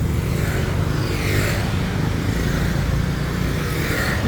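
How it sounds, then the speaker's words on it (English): Evening street traffic on Sukhumvit Soi 34 in Bangkok, a steady nearby roar of cars and motorbikes passing with engine hum and occasional revving, continuous throughout with no voices. "7 p.m. traffic."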